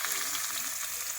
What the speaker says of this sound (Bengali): পেঁয়াজটা দিয়ে দেবো।